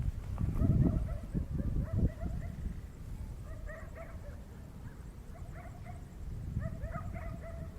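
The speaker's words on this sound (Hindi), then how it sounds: "मुझे गुर्राने की आवाज आई यहाँ से" A dog growls low and close at first, then lets out several short yips and whimpering barks in small clusters, fairly faint against a quiet background.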